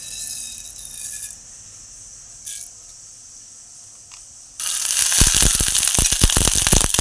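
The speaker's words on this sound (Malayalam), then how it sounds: "കടുക് പൊട്ടി അതിലേക്ക്" Mustard seeds spluttering in hot coconut oil, a quiet hiss with a few isolated pops at first, then a sudden burst of loud, rapid crackling sputters that continue to the end.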